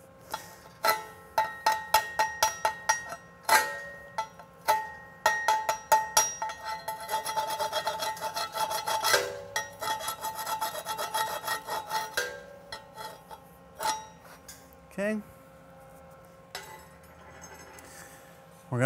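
Slag is chipped and brushed off a 3G weld made with 6010 and 7018 rods, giving a close series of sharp metallic taps followed by a stretch of rapid scraping and brushing with occasional clinks.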